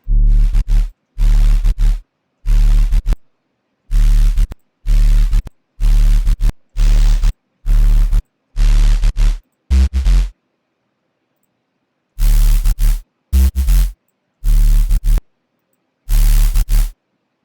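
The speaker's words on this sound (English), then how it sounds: "It's just sine wave mixed with distortion, and white noise." Harsh bursts of synthesized noise made from a sine wave with distortion and white noise, a buzzing tone mixed with hiss, switching on and off in short repeated blocks with silent gaps between, in drum and bass production.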